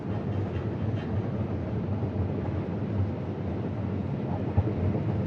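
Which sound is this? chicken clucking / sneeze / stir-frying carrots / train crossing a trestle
train crossing a trestle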